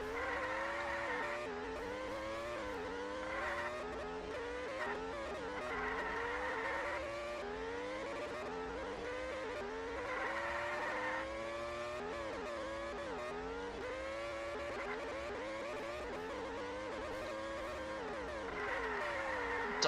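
Race cars in a sim racing game lap a track, engines whining and rising through repeated gear shifts, with tires squealing, continuous and loud with no talk.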